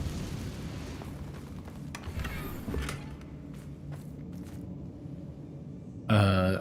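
A Confringo fire spell goes off in Hogwarts Legacy on hard mode, with a muffled boom and crackling burst in the middle and a louder, brighter impact right at the close.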